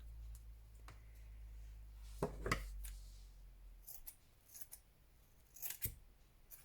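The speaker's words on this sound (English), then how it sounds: "I'm just gonna cut a piece off." Scissors cut a rough piece from an old curtain fabric, giving several crisp, close snips spaced irregularly against a quiet background.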